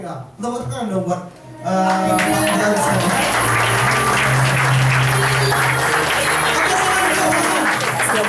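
Audience applause at an office seminar breaks out after a brief stretch of talk, with many hands clapping loudly and steadily, close and filling the room.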